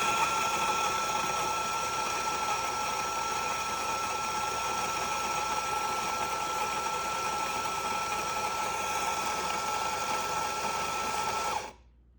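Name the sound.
coffee grinder grinding Kirkland organic Peru whole beans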